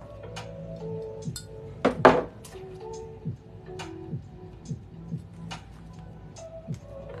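Glass coffee cups, some of them 20-ounce wavy ones, clink softly as they are packed for orders, with one louder clack among scattered small taps and rustles.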